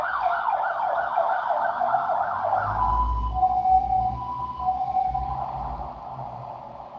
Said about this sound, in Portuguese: Esperar a ambulância passar.